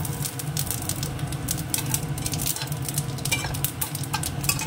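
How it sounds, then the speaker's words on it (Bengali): Dried red chillies and cumin seeds hitting hot oil in a wok crackle and spit loudly and up close, with a dense, rapid popping sizzle across the whole short stretch. "এদিকে কড়াইতে তেল দিয়ে দিয়েছি, এই যে দিয়ে দেবো শুকনো লঙ্কা আর একটু জিরে"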